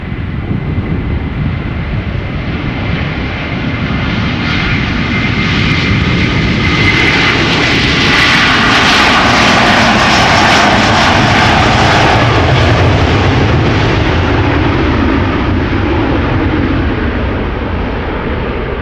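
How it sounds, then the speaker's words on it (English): A Delta Air Lines Airbus A330-300, seventeen years old, takes off from Schiphol Airport, its jet engines roaring loud and continuous, swelling to a broad peak mid-climb then easing slightly as it pulls away; no voices. "Obviously this is an Airbus A330-300, 17 years old, the first flight was in October 2006. She's off the ground and the landing gear seems to be retracting."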